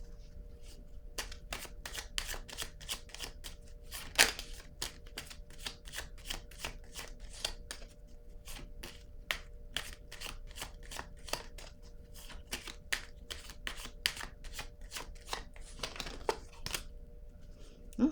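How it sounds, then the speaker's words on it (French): Tarot cards being shuffled by hand, a long run of quick, soft riffling snaps and flicks, close and fairly quiet, with a faint steady hum underneath. "Je vais piger une autre carte."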